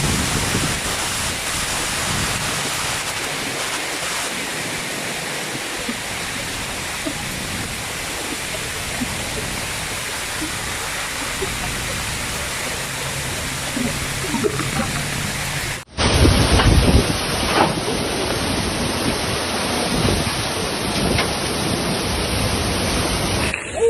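Heavy storm rain on the Slovakia-Poland border pours in a steady, dense hiss, then shifts abruptly to a louder, rougher rush partway through; no distinct thunder claps stand out.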